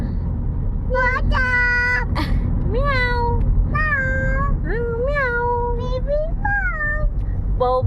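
A voice repeatedly imitates a cat's meow, several drawn-out rising and falling mews in a row over a low steady rumble.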